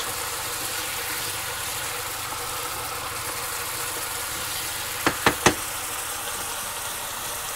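Wine bubbles and reduces in a pan on high heat, giving a steady, even hiss and sizzle throughout, with three quick clicks near the end and no talking.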